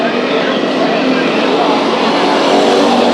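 Hobby stock race cars at Bakersfield Speedway roar past in a loud, continuous engine drone during a heat race, with a dense blend of several cars running close together and an announcer talking over the noise.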